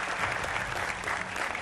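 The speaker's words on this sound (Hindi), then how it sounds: "तालियों के साथ स्वागत कीजिए" A studio audience at a televised political debate show claps in a brief, dense burst of applause to welcome panel guests. It is steady and moderately loud, with no speech over it.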